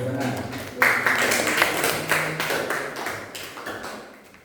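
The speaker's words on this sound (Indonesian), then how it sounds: "Tepuk tangan." Students in an English class clap after a classmate's self-introduction, a loose series of sharp claps and taps in a room with voices murmuring underneath.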